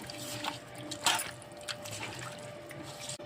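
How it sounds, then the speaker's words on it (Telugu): Cooking oil, about 300 grams, pours into a spicy mutton dum biryani marinade of spices and salt, giving a soft liquid trickle and splash that continues steadily with a brief louder gush early on. "300 గ్రాములు ఆయిల్ పోస్తుంది"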